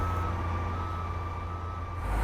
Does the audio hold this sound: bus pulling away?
yes